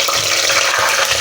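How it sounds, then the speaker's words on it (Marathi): Whole spices such as cumin, black pepper, bay leaf and cinnamon, along with curry leaves, fry in hot oil, producing a brief, loud, dense sizzle and crackle heard up close. "आता हे सगळे खडे मसाले आपण नीट तेलात परतून घेऊयात।"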